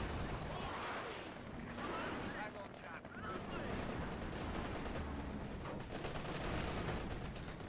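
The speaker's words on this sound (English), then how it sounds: "machine gun, just a machine gun team." A heavy machine gun team fires bursts in a Company of Heroes 2 battle, with distant gunfire and artillery rumbling steadily in a dense, continuous wartime din.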